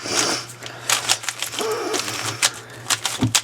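A Christmas-themed puzzle cube turned rapidly during a speed solve, giving bursts of sharp plastic clicks and clacks in an irregular rhythm, close and fairly loud, with a faint electronic hum beneath.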